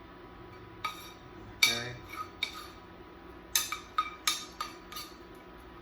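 Roasted tomatoes tossed with parsley in a bowl give a run of sharp utensil clinks and taps against the dish, irregular and fairly close, with one brief spoken word.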